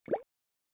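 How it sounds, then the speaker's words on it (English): A single soft water drop plops once, close and clear, then silence follows. "This is the sound of regular water droplets."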